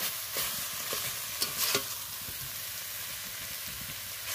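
Taro leaves (kochu shak) being stirred and fried in a pan, cooked vegetarian without onion, garlic or fish, giving a steady close sizzle with a few louder scraping stirs near the middle and no talk.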